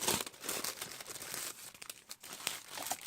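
Thin paper A2 card sleeve crinkling and rustling as it is handled up close, a steady run of crisp crackles with brief bursts, no talk.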